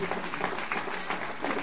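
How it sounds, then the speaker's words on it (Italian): Audience applause for a polyphonic choir at an outdoor evening show in Bettona, a steady, close wash of many hands clapping with no gaps. "Facciamo un bel applauso al coro"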